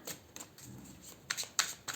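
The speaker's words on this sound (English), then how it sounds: "a tiny extra shuffle." A brief, close riffle of tarot cards being shuffled, with a few soft flutters and light snaps in quick succession.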